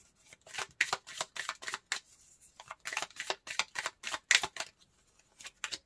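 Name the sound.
tarot cards being shuffled and drawn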